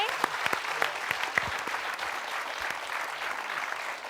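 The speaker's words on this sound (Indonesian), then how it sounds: "Kita kasih tepuk tangan dulu untuk Rocky." Studio audience applause on a comedy variety show, a sustained wash of clapping with a few sharp claps standing out early on.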